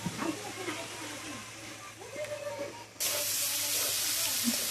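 Pointed gourd (potol) fries with turmeric in a pan, giving a steady sizzling hiss with a faint voice underneath that jumps to a louder, fuller sizzle partway through.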